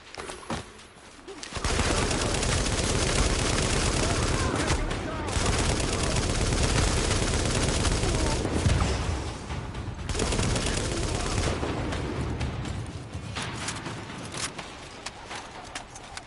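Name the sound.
gunfire from video game The Division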